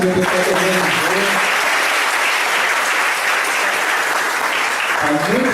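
An audience at a Catholic retreat devoted to Our Lady claps in loud, continuous applause that holds steady throughout, with a voice briefly heard at the start and again near the end.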